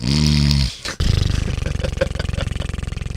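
A person loudly imitates snoring: a drawn-out nasal snort, then a rapid, rattling series of throaty snores right up close.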